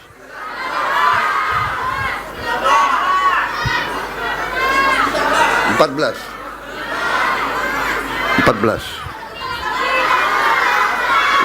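A large crowd of children and adults shouts and calls out together at a dam inauguration in Indonesia, a dense, continuous roar of voices with surges and sharp peaks.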